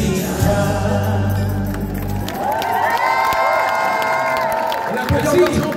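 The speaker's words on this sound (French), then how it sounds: "On applaudit encore Jean-Paul, un peu plus fort s'il vous plaît." Festival audience at a Japan-themed event cheering and shouting, with children's voices prominent in a dense, steady crowd roar; a sustained tonal whoop rises midway, and clapping is barely apparent.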